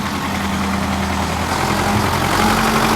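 A Ford 77 T5 tractor engine idles steadily and close by, with a continuous low, even rumble and vibration that holds at a constant loudness throughout.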